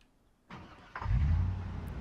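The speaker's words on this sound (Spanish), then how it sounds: "Este coche nos va a dejar tiradísimos." A car engine in the Project Zomboid game cranks over and catches, then settles into a steady low rumbling idle, loud and close with no talk over it.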